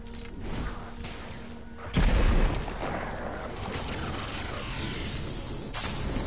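An explosion bursts in the Destiny 2 video game, a sudden booming thump over a rumbling action soundscape that settles into steady background noise.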